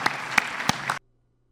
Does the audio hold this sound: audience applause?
yes